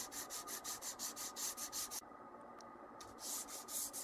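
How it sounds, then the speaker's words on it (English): Sandpaper rubbed back and forth over the frets and fingerboard of a Rich & Taylor banjo during a partial refret, with steady rhythmic scratchy strokes up close, then a brief pause before the strokes resume. "we're going to sand these things down"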